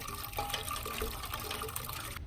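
Miracle-Gro Quick Start liquid transplant fertilizer is being mixed with water for potting hot pepper plants. Liquid pours and sloshes quietly in a short close burst, with a few small drips.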